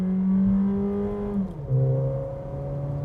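A Volkswagen Nivus GTS driven at night on the Capoava track, its engine droning loudly from inside the car and holding pitch before dropping with an upshift, then pulling steadily again, with no speech.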